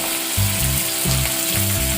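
Green chillies, curry leaves, garlic and ginger frying in a pan for a raw banana fry, a loud close continuous sizzle with a steady low hum underneath and no talking.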